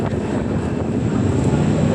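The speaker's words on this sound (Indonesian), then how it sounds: "Tampaknya ada pesawat yang mau mendarat di Selangit." Medium-bodied passenger airplane approaching to land at Silangit airport near Lake Toba, a steady broadband engine roar with wind rumble, continuous and fairly loud throughout.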